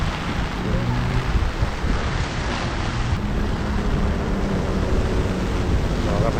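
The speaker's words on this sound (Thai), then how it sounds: "ใต้ฝุ่นเข้าลมอย่างแรง" Strong typhoon wind in Japan roars steadily and loudly past the microphone, a dense, unbroken rushing buffet for several seconds.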